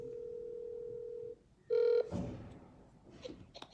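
A telephone tone sounds while a dropped call is redialled: a long steady tone, a pause, then a short, louder burst, followed by faint background rustle and muffled sounds.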